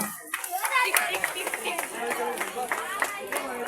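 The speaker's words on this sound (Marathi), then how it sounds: "सर्वांनी जोरदार टाळ्या वाजवा" An audience at a community food event applauds with dense, steady hand clapping at close range, and voices carry faintly under the clapping.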